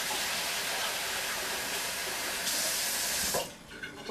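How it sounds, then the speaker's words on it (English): Running tap water pours steadily over rice being rinsed in a bowl for a chicken kabsa, a continuous close splashing rush that cuts off near the end, leaving a few small drips and sloshes. "Just give it a quick rinse."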